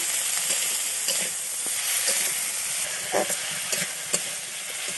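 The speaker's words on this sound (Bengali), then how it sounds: "কড়াই সবজিগুলো এখন আমি ভালো মতো ভেজে নেব।" Mixed vegetables, broccoli to follow, stir-fried in a hot karai wok, a loud constant sizzle and hiss with scattered scrapes and knocks of the spatula, no voices.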